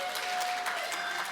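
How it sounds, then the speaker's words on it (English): A congregation cheering and applauding, a short dense burst of clapping and crowd noise filling the room at steady loudness. "Now we can cheer."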